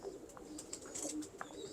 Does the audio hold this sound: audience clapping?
no